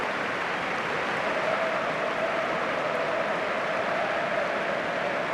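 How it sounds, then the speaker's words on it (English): A football stadium crowd at an FA Cup tie between Arsenal and Manchester United gives steady sympathetic applause, a dense, even wash of distant clapping that holds for several seconds without pause. "Plenty of sympathetic applause here."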